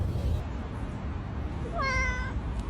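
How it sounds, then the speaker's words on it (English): A small orange kitten gives one short, rising meow that stands out over a steady background hiss in a domestic setting. "Look at this little kitten."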